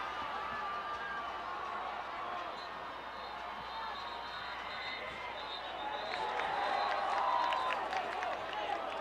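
High school football crowd in overtime at an Eisenhower vs. Anchor Bay game, a moderate, fairly distant murmur of cheering and scattered clapping that swells toward the end, with a commentator talking over it.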